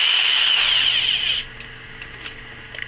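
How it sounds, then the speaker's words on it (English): A power drill with a large bit whines loudly and steadily for about a second and a half, then stops abruptly, leaving faint clicks and small knocks. "I need to drill a hole in this so that this can go through it."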